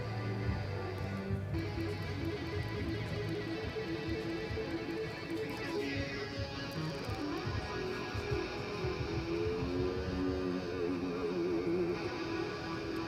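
A synthesized guitar tone from GarageBand on an iPad plays a steady stream of notes at a moderate, fairly quiet level, with no voices.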